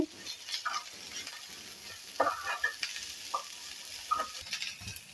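Corn kernels for upma sizzle and crackle in a hot pan while a spoon stirs and scrapes them, giving frequent clicks and bursts over a steady frying hiss, close and fairly loud.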